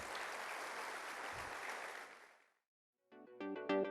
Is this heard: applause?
yes